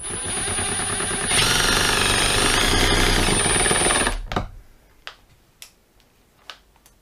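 A Milwaukee M18 FID2 Gen3 Fuel impact driver drives screws with a loud, dense hammering rattle and a high whine for about three seconds, then stops, followed by a few sharp clicks and taps.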